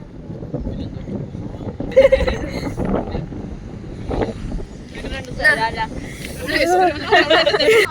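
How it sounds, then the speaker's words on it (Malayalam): Strong, cold night wind in Salalah, Oman, gusting and buffeting the microphone in loud, uneven surges that build toward the end, with people talking underneath. "നിങ്ങൾക്ക് കാറ്റിന്റെ ശക്തി അറിയുന്നുണ്ടോ എന്ന് അറിയത്തില്ല. നല്ല കാറ്റുണ്ട്."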